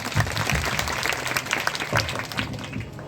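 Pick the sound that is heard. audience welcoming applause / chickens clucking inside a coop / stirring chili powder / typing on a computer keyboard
audience welcoming applause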